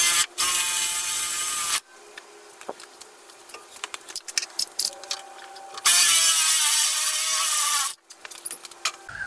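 A power drill with a small bit whines in bursts of a few seconds each while drilling a pilot hole in a Nissan D22 Navara bonnet, with clicking and rattling between runs, close by.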